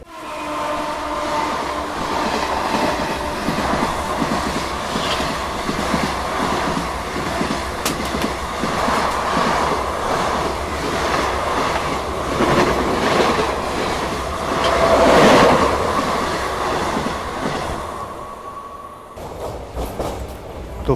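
A slow passenger train on the broad-gauge Mumbai–Ahmedabad line rumbles steadily along the rails with a continuous clickety-clack, a louder swell near the middle and a brief squeal, heard from inside the carriage with no talking.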